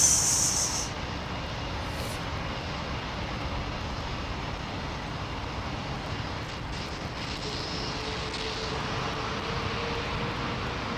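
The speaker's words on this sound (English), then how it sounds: "listen to that Dreamliner around the corner" Boeing 787 Dreamliner taxiing out of sight around a corner at London Heathrow, its engines giving a faint, steady, distant hiss and hum that swells slightly near the end.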